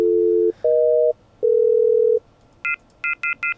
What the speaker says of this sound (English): We've got the dial tone